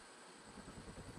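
Video game helicopter with a steady rotor-and-engine drone, building from a quieter start into a continuous pulsing hum that sits alone, with no talk over it.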